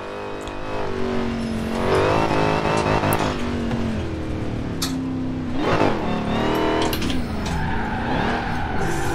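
Car drifting in Forza Horizon 4 on standard power at sharp corners, the engine revving continuously with repeated loud tire squeals and skids rising over it, close and without any talking.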